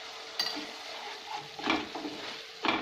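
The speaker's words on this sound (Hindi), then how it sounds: "और इन्हें अच्छे से भून लूंगी।" Tomato puree masala with salt frying in oil for a mixed vegetable kofta curry, a soft continuous sizzle broken by a few spoon scrapes and clinks against the pan as it is stirred.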